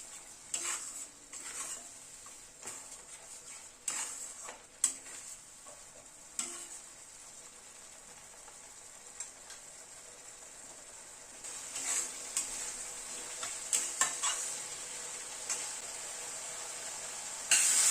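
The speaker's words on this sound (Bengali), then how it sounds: "টমেটোটা দিয়ে মিনিট 2-3 মতো কষিয়ে নিলাম।" Tomato paste cooked down with masala in a pan for a cauliflower and potato dish, with a steady soft sizzle under intermittent scrapes and clinks of a spatula against the pan, close and moderately quiet, without talking.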